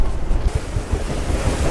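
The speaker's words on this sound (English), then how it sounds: "It's just a trifle blowy." Strong wind buffeting the open deck of a paddle steamer on Loch Fyne, a loud continuous roaring rush with gusty swells and microphone buffeting, no voices.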